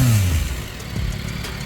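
A 2024 Yamaha MT-09 SP motorcycle engine, close and loud, dropping from a rev into a throaty idle with a brief blip partway through, heard alone.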